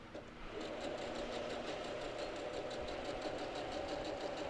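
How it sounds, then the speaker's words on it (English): Domestic sewing machine stitching a quilted feather motif, a steady rapid mechanical whir with fine regular needle ticks running continuously and evenly at close range, with no talking. "now I'm going to stitch another feather and go back to the spine"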